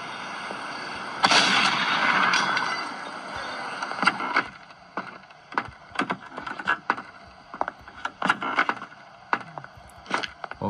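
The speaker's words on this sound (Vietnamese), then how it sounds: "Đầu tiên thì các bạn sẽ có một khẩu súng. Mình sẽ phá tan cánh cửa ở đây ra." Gunfire in a video game as a door is shot open: a long loud blast burst, then a string of sharp separate shots at uneven intervals, close and without talk.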